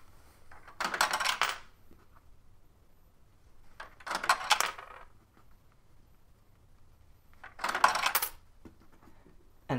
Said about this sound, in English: The machine works with 1 euro coins, which will give you 3 balls to play with. Smaller coins will be rejected.